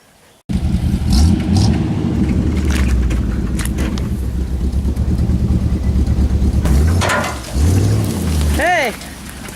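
A Chevy-powered vehicle's engine growls loudly and steadily under load while pulling a 1952 GMC dump truck out of a hole, then eases off, with people talking over it.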